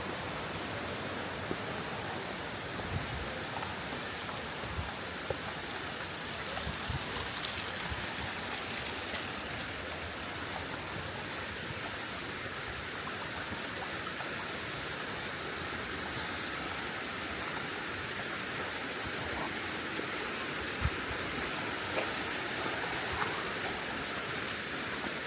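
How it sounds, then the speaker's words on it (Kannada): Waterfall on the Grand Cliff Top Walk, a constant broadband rush of falling and splashing water, steady and fairly loud throughout with no voices. "ಫಾಲ್ಸು ಚೆನ್ನಾಗಿದೆ."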